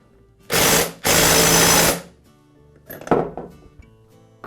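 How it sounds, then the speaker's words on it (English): An impact wrench fastens a Poulan chainsaw clutch in two loud, sustained bursts of rapid hammering close by, followed by fainter metallic clinks and rattles of parts. "I'll use my clutch removal tool, or in this case, installation tool,"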